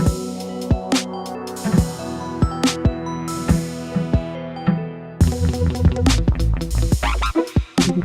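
FM synthesizer tones play in a music production session, a close, loud sequence of metallic, bell-like plucked notes with percussive hits, ending in a denser burst, with no talking.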